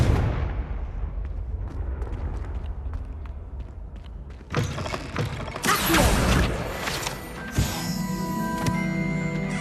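A Confringo blast spell in Hogwarts Legacy erupts midway with a loud burst of booming, crackling noise. Quieter mechanical creaks and ambience come before it, and a ringing, shimmering tail follows.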